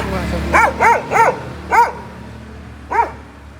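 A dog barks five times, sharp and fairly close: four barks in quick succession, then a short pause before a final one.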